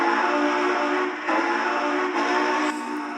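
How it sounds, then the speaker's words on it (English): A Lionel model train's whistle sounds in one steady, loud blast with a brief dip midway, heard alone without talk. "I'll give you a quick blast of the whistle."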